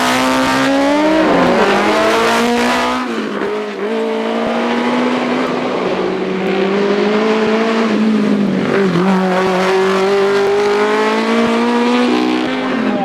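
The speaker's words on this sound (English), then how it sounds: "here's Vernon Williamson's Ecos Imp, which was designed by Stan Sproat for Scots racing driver Graham Bill in the mid-60s" An Ecos Imp racing car, designed in the mid-60s, accelerates hard up the Shelsley Walsh hill climb, its engine note loud and continuous, climbing through gears with brief dips between rising revs across the whole stretch.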